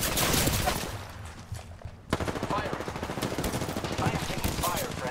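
Rapid automatic gunfire in a video game firefight, loud and close, in dense rattling bursts that drop off briefly before sharp shots restart and run steadily, with game voice lines mixed in.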